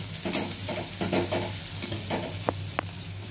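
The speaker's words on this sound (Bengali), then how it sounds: "এখন আমার পেঁয়াজটা ভাজা হচ্ছে, পুরো ভাজা হয়নি, একটু লাল লাল ভাজা হতে হবে" Chopped onions frying in a pan for paneer korma, a steady close sizzle with stirring scrapes and a couple of sharp clinks near the end, no talk.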